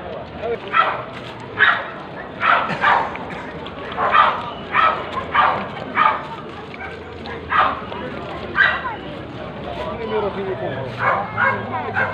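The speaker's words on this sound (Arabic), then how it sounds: "هذا جرو صغير ثاني مالينوا" A two-month-old Malinois puppy at an outdoor dog market in El Harrach, giving a string of high, yappy barks and whimpers at close range, irregularly spaced, with people talking in the background.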